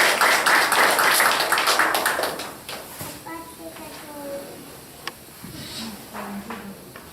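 Applause at a graduation ceremony, with a burst of clapping over the first two seconds that fades out, followed by a quieter room with scattered speech.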